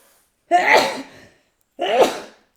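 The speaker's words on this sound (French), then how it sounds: "Je me gratte le nez parce que j'ai envie d'éternuer." Two loud, close sneezes about a second apart, each a sharp burst trailing off, in an otherwise quiet room.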